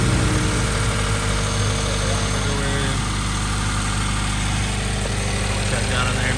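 A Subaru WRX fitted with a flex fuel sensor idles steadily and somewhat roughly, a loud, close, unbroken engine drone with constant low vibration and no clear change in pitch.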